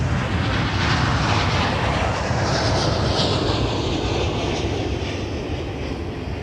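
Airliner jet engines at Minneapolis–St. Paul airport give a loud, steady broadband roar that fades slightly toward the end, with no voices.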